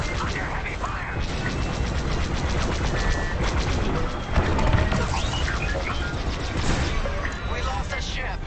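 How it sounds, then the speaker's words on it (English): Heavy blaster fire in a Star Wars video game: dense, continuous rapid bursts of zapping shots and mechanical clatter, loud and busy throughout, with voices talking over the battle. "Under heavy fire."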